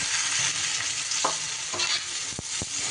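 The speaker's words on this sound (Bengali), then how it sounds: "বরবটিগুলো দিয়েও বেশ এবার আলুর সাথে নাড়িয়ে চাড়িয়ে একটু ভাজা ভাজা করে নিতে হবে।" Potatoes and yardlong beans fry in a pan, with a steady sizzle throughout and a few sharp scraping stirs of a spatula against the pan. No voices are heard.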